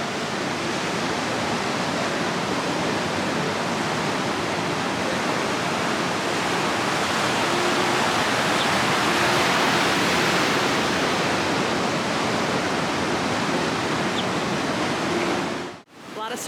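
Ocean surf at Cocoa Beach Pier in Florida rolls in as a loud, continuous wash of broadband roar, swelling gently in the middle and dipping briefly near the end, with no talk over it.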